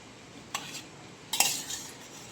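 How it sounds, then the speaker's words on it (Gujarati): Chatpati snack being stirred in a pot in a home kitchen, with two short, close scraping bursts of spoon against pot over quiet background. "બસ હલાવી નાખો."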